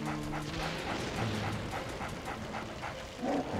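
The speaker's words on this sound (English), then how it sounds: "we're just gonna run away from the dog at the moment" A ghost dog in Luigi's Mansion barks and yips repeatedly in a quick rhythm, loud and close over busy game sounds.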